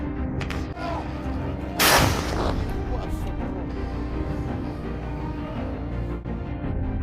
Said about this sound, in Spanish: La explosión fue grabada desde el suelo, del lado ruso.